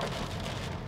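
Rain patters steadily on the roof of a Honda BR-V Prestige 2022, heard from inside the closed cabin as a soft, even hiss with no voices.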